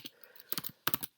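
Typing on a computer keyboard while writing web page code, heard as a few quick bursts of close, crisp key clicks separated by short pauses.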